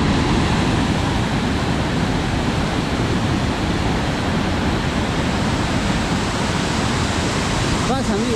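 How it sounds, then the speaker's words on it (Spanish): Broad steady rush of a river in the Apurímac region of Peru, seen from a risky mountain road, loud and continuous throughout with no clear talk. "Eso es todo el río, miren."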